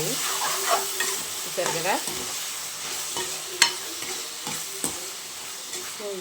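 Tomatoes sizzle and fry in a pan for a Rayalaseema-style potato and egg curry, a steady close crackle with repeated scraping stirs, and a voice speaks briefly over it.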